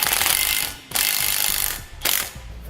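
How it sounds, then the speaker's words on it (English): Ratcheting socket wrench with a 16mm socket snugging the bolts of a trailer hitch receiver on a 2018 Ford Explorer, close and loud, in three bursts of rapid clicking separated by brief pauses. "we can grab a 16mm socket and wrench, and we're going to snug these up just to where it's going to be tight against there"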